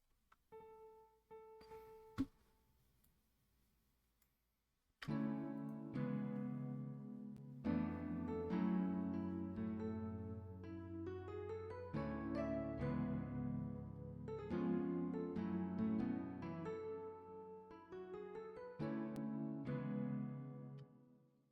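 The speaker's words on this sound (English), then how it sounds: "So this is what the piano sounds like." A software piano in FL Studio, carrying reverb and EQ, plays a melodic chord pattern after a few faint opening notes. Sustained notes ring and overlap clearly for about sixteen seconds, with no voice.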